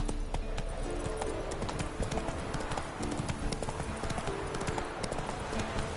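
In The Witcher 3, Roach the horse gallops with quick, rhythmic hoofbeats that pound close and clear through the whole stretch over faint background game sound.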